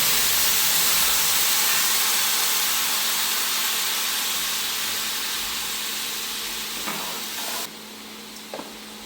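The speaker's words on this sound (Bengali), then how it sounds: "এখন আমি এই মশলাটা ফ্রাই করে দিয়ে দেব।" Masala spices frying in a pan with a splash of water for an egg, potato and eggplant curry make a loud, steady broadband sizzle and hiss that slowly fades, with a few faint stirring knocks near the end.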